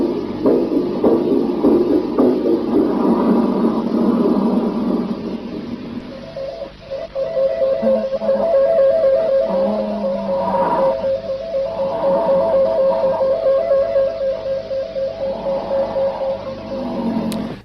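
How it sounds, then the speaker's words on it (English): An old radio-transmitted recording of a cosmonaut's heartbeat gives a muffled, rhythmic throbbing under static and hum, followed by faint gasping breaths and a steady tonal whine through the degraded signal. "what you hear in that recording there is allegedly the heartbeat of a cosmonaut, followed by his gasping breaths that fade because, according to the two brothers, the signal faded"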